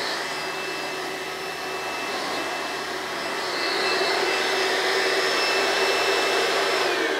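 A vacuum cleaner cleaning a sofa runs continuously with a steady high whine and airy roar, growing slightly louder partway through.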